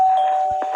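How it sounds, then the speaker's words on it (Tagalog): A doorbell rings once, a steady, clear electronic chime tone held through the short moment with faint background sounds and no talking. "Mag-doorbell ko dyan."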